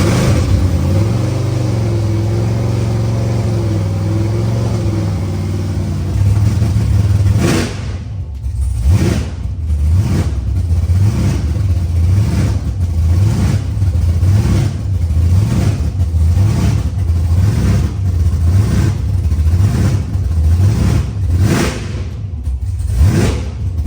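The CL1KB8 engine cranks over, catches and settles into a loud, steady run near the listener, with rhythmic pulsing throughout and no talking.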